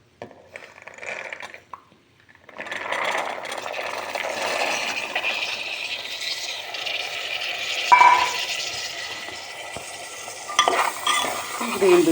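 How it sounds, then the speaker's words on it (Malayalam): Green peas tipped into a pan of well-roasted spice powder for a green pea curry, then stirred: a steady sizzle with scraping stir strokes, a quiet start and a louder rattle near the end, no talking. "അപ്പോൾ നമ്മളെ ഗ്രീൻ പീസ് ഇതിലേക്ക് ഇടാം."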